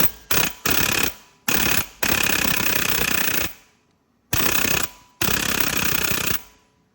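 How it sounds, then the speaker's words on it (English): A pneumatic air hammer works a part during a Hustler Raptor mower traction belt replacement, firing six loud, close rattling bursts of varying length separated by short pauses, with no talk. "I'm going to use my air hammer to see if we can't get this thing to come down a little bit"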